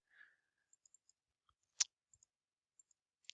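Computer mouse clicks while working in Inventor CAD software, a few sharp, faint clicks scattered irregularly with silence between them, one louder click near the middle.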